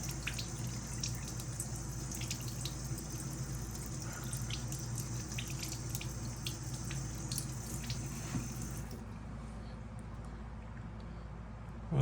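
A faucet runs steadily while sand and debris are rinsed out of it, giving a constant hissing water stream that stops near the end.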